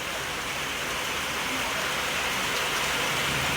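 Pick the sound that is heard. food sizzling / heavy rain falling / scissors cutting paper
heavy rain falling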